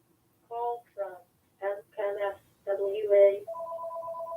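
A home telephone rings, its repeated tone bursts starting short and choppy, then settling into a steady electronic trill near the end, fairly close in a quiet room.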